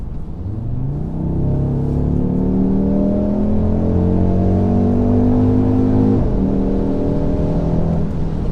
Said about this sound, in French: Allez, c'est parti pour une petite accélération